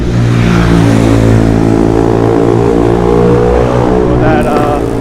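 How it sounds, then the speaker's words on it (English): A car accelerating and roaring past on a Miami street at night, a loud, close engine drone with shifting revs that holds steady throughout, ending with a brief rise in higher engine tones. "I'm getting raced by this car."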